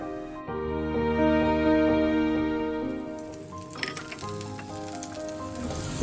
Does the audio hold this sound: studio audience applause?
no